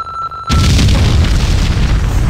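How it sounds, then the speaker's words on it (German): A loud explosion in the video game Max Payne 2 bursts in after a quiet half second, then a dense booming roar sustains to the end, close and dominant with no talk over it. "Das Schlechte ist, Explosion."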